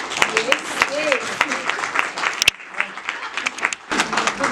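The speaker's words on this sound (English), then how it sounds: "Round of applause." Audience applause at a short story anthology book launch, a dense patter of clapping that runs throughout with a host's voice talking over it.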